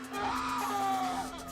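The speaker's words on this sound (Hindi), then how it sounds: "उसे किसी के रोने और चिल्लाने की आवाज आ रही थी" Anguished screaming and wailing cries in a horror story, a drawn-out, strained voice holding a loud, steady tone with a few shifting pitches under a constant hum.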